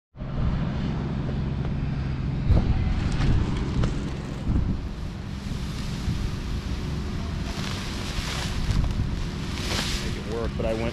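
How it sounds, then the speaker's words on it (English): Strong wind buffets the microphone and gusts across an outdoor baseball infield, a steady roaring rush that swells and eases for around ten seconds with no other clear sounds. "I don't know if you can hear that wind."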